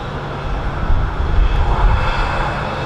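A Ryanair Boeing 737-800 airliner passes near Manchester Airport, its steady jet engine roar broad and fairly loud, swelling slightly in the middle with low rumble throughout.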